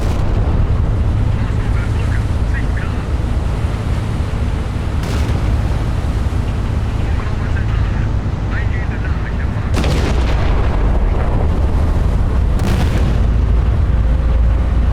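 Naval gunfire from the Battleship Command warship game: loud booming shots and blasts over a steady low rumble, with several sharp bursts standing out across the stretch.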